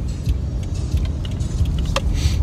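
Steady low road rumble and engine drone inside a moving car on a chilly day, loud and continuous, with a few faint rattles and clicks over it and no talking.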